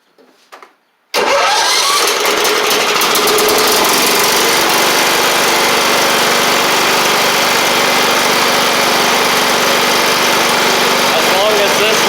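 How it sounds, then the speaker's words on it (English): A John Deere L110 riding lawn mower engine is cranked and catches after a brief pause, then roars loudly and steadily at close range, drowning out everything else. "So let's crank it."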